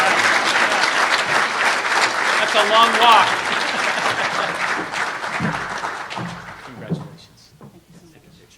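Loud audience applause at a university alumni awards ceremony continues under a voice, then fades into scattered claps and quieter talk near the end.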